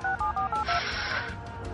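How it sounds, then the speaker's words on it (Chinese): A mobile phone keypad being dialed, four quick evenly spaced beeping tones followed by a longer tone and a soft hiss, close and clear. "我拎出手机拨通咗贾任嘅电话"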